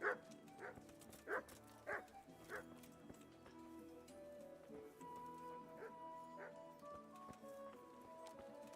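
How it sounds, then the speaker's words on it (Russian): A dog barks in a medieval town square in the video game Kingdom Come Deliverance: several sharp barks close together at the start, then quieter ambient town sounds. "Собака."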